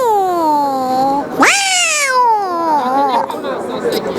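A person's voice imitates a cat, drawing out long wavering meows that rise and fall in pitch, close and loud, one after another over a few seconds.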